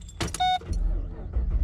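A 2009 Pontiac G8 GT is started: a short chime and electronic beep sound, then the engine cranks and catches into a loud, low, rumbling idle close by.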